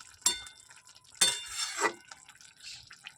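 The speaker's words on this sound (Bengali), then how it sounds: "এবার আমি এই কুচানো টমেটোটা দিয়ে দেবো, দিয়ে একটু মিশিয়ে দেবো।" A spoon scrapes and clatters in a pan as chopped tomato is stirred into a simmering fish curry, with two sharp metallic scrapes followed by a softer wet stirring swirl.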